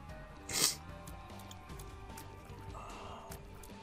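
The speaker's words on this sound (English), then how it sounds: "Oh god, I gotta sneeze." A single sharp sneeze bursts out near the start, loud and close, over quiet video game music and sound effects that continue afterward.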